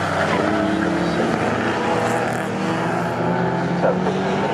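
A pre-1983 Group 1 touring race car roars on the Snetterton circuit, its loud sustained engine note holding steady with a slight pitch shift as it heads toward a left-hand corner, with a commentator talking over it.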